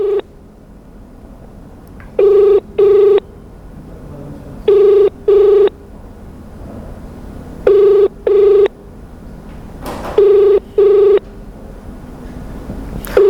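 A telephone rings back while a toll-free number is being called, each ring a loud, clear double tone, repeated four times at even intervals over a quiet background hiss.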